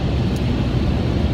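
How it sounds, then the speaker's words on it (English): Powerful blowers in a drive-through car wash dry a BMW E92 M3, giving a steady, loud rushing roar of air that fills the enclosed bay without a break. "It's kind of loud in here now that it's blow drying the car."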